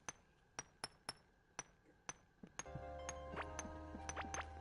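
Mining drills grinding into Galaxite ore in the video game Core Keeper: a run of sharp, bright metallic clinks at a steady beat, then a sustained droning hum with rising tones building underneath.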